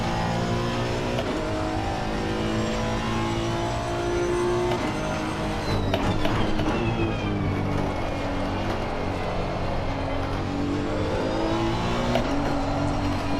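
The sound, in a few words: Honda NSX GT3 engine at Catalunya, Assetto Corsa Competizione video game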